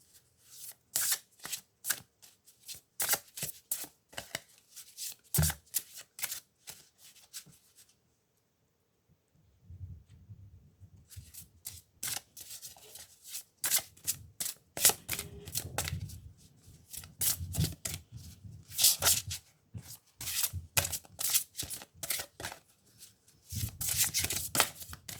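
Tarot cards being shuffled during a reading, repeated crisp riffling bursts close up, pausing briefly near the middle, then resuming with softer handling rustles between the riffles.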